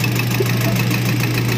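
An Isuzu 4JA1 diesel engine runs on a test bench. It gives a loud, steady, close mechanical drone with a rapid knocking pulse throughout.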